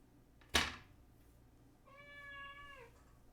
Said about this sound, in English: there's a normal Sophie meow